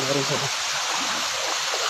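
Water rushes steadily at Kulaklitan Falls in Barangay Panlayahan, Calbayog City, Samar, a constant broad roar of falling water close by, with a brief voice at the start.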